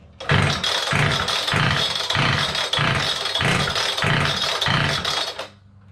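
A Hilti DSH700 cut-off saw's two-stroke engine runs loud and close on half choke, with a steady pulsing, rattly chug about twice a second before cutting out near the end.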